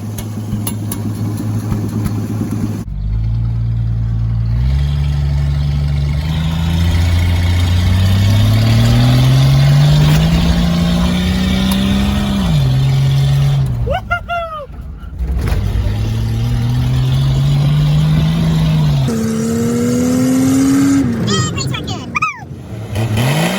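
A 1981 AMC Eagle Sundancer fitted with a big cone air filter revs hard in several loud pulls, its engine note climbing and dropping between bursts.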